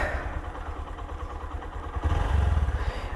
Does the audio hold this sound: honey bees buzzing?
no